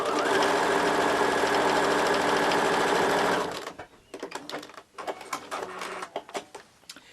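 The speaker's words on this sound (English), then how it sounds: "And then you're going to stitch at least a ¼ inch." A sewing machine stitches fabric strips for Christmas ornaments, a loud, close, continuous motor whir for about three seconds, then stopping into quieter handling clicks and rustles.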